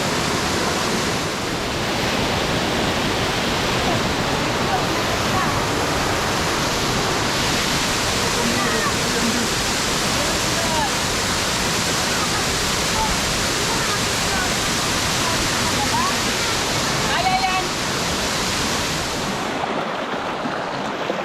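A jungle waterfall in the Philippines pours in a steady, loud roar of rushing water that fills the whole stretch without a pause and drops off only at the very end.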